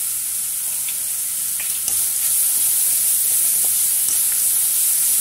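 Carrots sauté with salt and asafoetida in a pan, giving a steady, dense hiss of sizzling that holds evenly throughout with faint occasional stirring and no talk.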